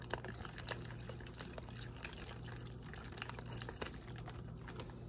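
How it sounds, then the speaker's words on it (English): Hot water poured into a container of ramen noodles in a cell kitchen setup, a quiet continuous trickling pour with faint clicking and ticking, close and low in level, no talking. "Let's go ahead and add the water to this next one."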